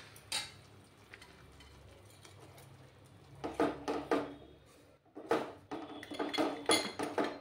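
Ginger and green chilli sautéed in a pan over a low gas flame for a fish poppy-seed curry, heard as close metal spoon scrapes and clinks against the pan in irregular bursts, with quieter stretches between.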